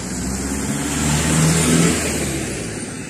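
A car drives a winding mountain road toward Lake Ritsa in Abkhazia, its medium engine droning steadily and swelling gently as it climbs, loud and close with no talk.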